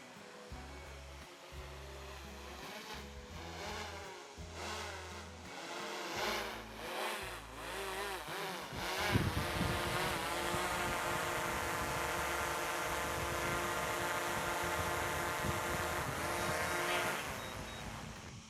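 A DJI Air 3 drone descends for a manual landing, its steady whirring rotor drone loud and close, rising in intensity and holding as a continuous buzzing hum throughout, with no talking.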